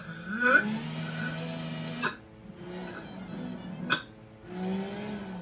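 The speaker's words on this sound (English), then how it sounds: "you didn't do that many burps you're supposed to do" A girl burping repeatedly, several drawn-out croaky belches in sequence with short pauses between, close and fairly quiet.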